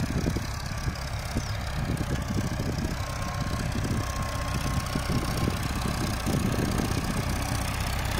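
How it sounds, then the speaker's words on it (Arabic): A 65 farm tractor idling in a field being prepared for planting: a steady, low, slightly knocking engine rumble held at constant level throughout, fairly close, with no talking. "هنا مع جرار 65 أستاذ محمود أبو تشابه المراكبي."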